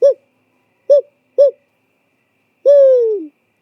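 A man imitates owl hoots with his own voice in an Oregon old-growth forest: three short, clear hoots spaced about half a second apart, then a longer, drawn-out falling hoot, loud and close against silence.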